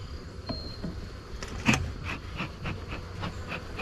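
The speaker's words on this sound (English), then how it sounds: "take that brush and lightly brush those bees off of that comb" Honey bees buzz around an open hive while a honey frame is harvested, a low steady drone with scattered closer passes of individual bees and light handling clicks.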